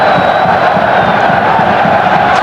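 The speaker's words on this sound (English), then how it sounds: "The crowd keep chanting his name" A football stadium crowd at a 1998 World Cup qualifier between the Netherlands and Belgium, chanting a player's name as a loud, sustained roar that fills the whole stretch.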